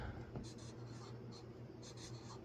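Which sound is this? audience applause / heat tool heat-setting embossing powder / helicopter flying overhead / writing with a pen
writing with a pen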